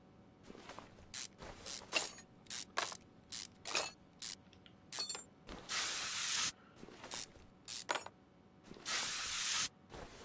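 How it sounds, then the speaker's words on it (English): A WD-40 spray can is fired at the fuel pump of a Ford Sierra RS Cosworth: a string of short hissing spurts, broken by two longer sustained blasts, close and clear with no talking. "Good old WD-40 to rescue once more"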